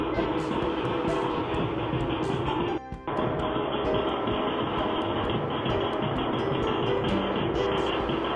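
A train runs at Rairangpur railway station in Mayurbhanj, Odisha, making a loud, continuous rumble and clatter that drops out for an instant partway through before carrying on.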